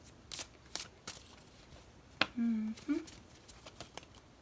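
Tarot cards shuffled by hand: a few soft riffling flicks and taps at close range, then a brief sharper snap and a short card slide, with a quiet room behind.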